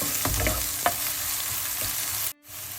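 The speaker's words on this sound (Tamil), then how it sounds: "சேர்த்துட்டு கொஞ்ச நேரம் இந்த வெங்காயம் வதங்கி வரட்டும்" Onion and green chilli sauté in a pan for a beetroot and chana dal stir fry, a steady close sizzle broken by a few spatula taps, which cuts off briefly near the end and then returns.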